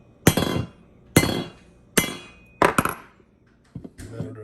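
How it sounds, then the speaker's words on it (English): Brass hammer tapping the barrel nut screw on an Aero Precision rifle upper, five sharp metallic strikes spaced roughly evenly, the fourth a quick double hit, close up with no talk. "then tap it with a brass hammer"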